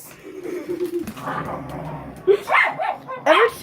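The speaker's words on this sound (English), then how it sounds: "Every time I hear Moose growl, I think something's going on." A dog growls in a low, steady rumble during a playful dog-versus-dog scuffle, then breaks into several sharp, loud barks and yips toward the end, with no talking.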